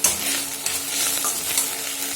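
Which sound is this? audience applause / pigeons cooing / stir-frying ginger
stir-frying ginger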